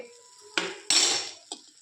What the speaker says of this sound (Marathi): आता भाजी चांगले भाजले तर मी काढते भाजी चाळणीत